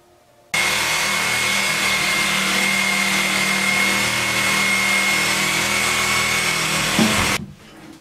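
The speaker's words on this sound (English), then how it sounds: "I'm gonna have to come underneath this with a Sawzall and cut those bolts off" Sawzall reciprocating saw cutting through rusted toilet bolts beneath a toilet, a loud steady buzzing roll lasting about seven seconds close up, stopping abruptly.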